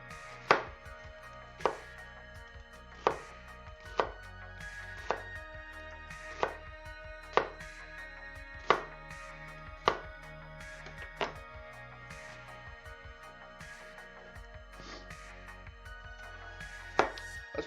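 Knife chopping onions on a board for French onion soup, a steady series of sharp, close chops spaced about a second apart over a faint background hum.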